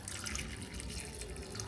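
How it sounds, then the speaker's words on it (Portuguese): Water pours steadily into a pressure cooker over sautéed chickpeas, a continuous hissing splash that stays even and close throughout. "Vamos estar colocando mais água aqui, um pouquinho mais."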